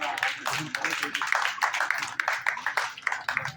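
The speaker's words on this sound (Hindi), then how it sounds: "जोरदार तालियों के साथ स्वागत और अभिनंदन और वंदन करना" Loud, dense applause greets guests at a Holi gathering, with steady rapid clapping from a crowd that continues throughout.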